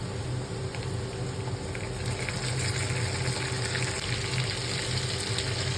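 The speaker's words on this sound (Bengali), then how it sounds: "এখানে আমি কাঁচা মশলাটাকে ভালো মতো ভেজে নিচ্ছি" Potatoes fry in a pan together with onion and ginger-garlic paste, giving off a steady, close sizzle that holds constant throughout with no voices over it.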